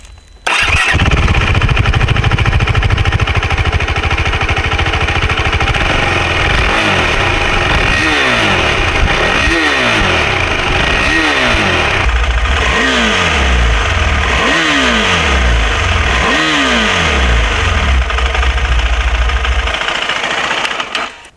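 A 2021 KTM 390 Adventure single-cylinder engine runs steadily with a smooth, sewing-machine-like exhaust note, loud and close, with a series of rising and falling revs through the middle and no talking.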